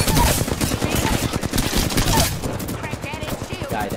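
Rapid automatic gunfire in the Apex Legends battle royale game, loud and dense bursts rattling continuously with a voice talking faintly underneath.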